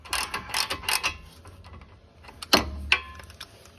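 A 17 mm brake caliper bolt on a Honda Fit's front brake is turned by hand, giving quiet clustered metallic ratcheting clicks with a louder clack near the end.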